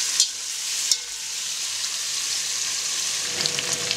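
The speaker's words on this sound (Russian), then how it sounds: "обжариваем мясо до золотистой корочки." Meat for kuyrdak, a Central Asian meat-and-potato dish, frying toward a golden crust, giving a steady, close, airy sizzle with a couple of light clinks near the start.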